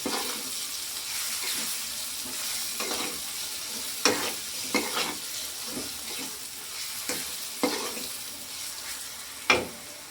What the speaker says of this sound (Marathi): आता टाकू आपण याच्यात लाल तिखट, मीठ आणि हळद, आणि याला चांगल्याने आपण हलवून घ्यायचंय